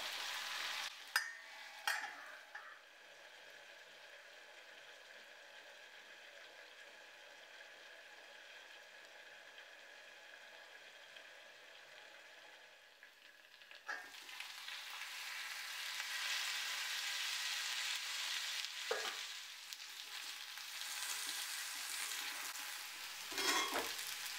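Chinese potatoes (koorka) cook in a covered pan on a Kerala home stove with a soft, continuous sizzle. The sizzle is faint at first, then grows louder and fuller partway through, broken by a few sharp clicks and knocks.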